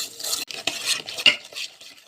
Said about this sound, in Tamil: போட்டு நல்லா மிக்ஸ் பண்ணி எடுத்துக்க போகிறோம்.